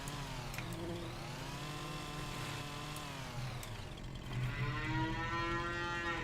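Heifers in the Farming Simulator 25 video game low out in long, loud, drawn-out moos, one after another, over a constant background hum.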